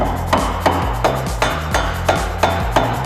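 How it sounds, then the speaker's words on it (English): Sharp metallic hammer taps on a rear suspension link of a 2015-or-later Ford Mustang repeat at a steady pace, about eight close strikes over a constant low mechanical hum. "you will need a hammer and again give it a little bit tap from the bottom"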